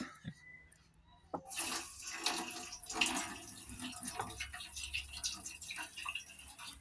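Ordinary 9% table vinegar is poured into a canister being cleaned with vinegar and citric acid, a steady splashing gurgle that runs for several seconds, close to the microphone, with no talking.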